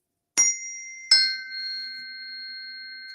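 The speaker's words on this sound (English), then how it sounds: "I also sometimes use these frequency forks, which are attuned to the solar plexus" Two tuning forks tuned to the solar plexus are struck one after the other, each giving a bright metallic strike and then a pure, steady ringing tone that sustains quietly and evenly in near silence.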